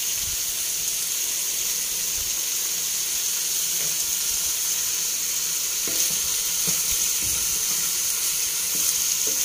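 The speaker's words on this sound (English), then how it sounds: "Fry muna natin yung pork ribs natin." Pork ribs frying in hot oil in a pan make a continuous crackling sizzle, close and steady, with occasional soft pops and spatters throughout.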